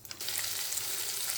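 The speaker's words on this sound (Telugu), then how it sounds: "ఇదిగో ఇలా కడాయి పెట్టుకున్నానండి. ఇందులోకి ఆవాలు, జీలకర్ర, మెంతులు, 2 ఎండుమిర్చి, ఇంగువ పోపు" Mustard seeds, cumin, fenugreek, two dried chillies and asafoetida sizzle in hot oil in a kadai for a tempering, a steady loud hiss after a brief spluttering start.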